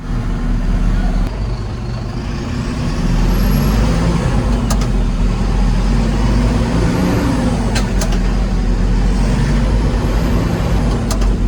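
A Unimog truck drives at steady loud engine roar with low rumbling throughout, shifting through a gear change, with brief high whines and a few sharp clicks over the continuous drone.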